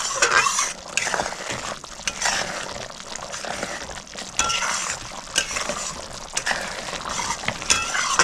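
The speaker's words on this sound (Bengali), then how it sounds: "দিয়ে ভালো করে মিক্স করে নিচ্ছি।" A utensil stirs and scrapes through fish korma gravy of rohu with powdered milk and salt in a pan, wet sloshing and clinking strokes repeating steadily at close range.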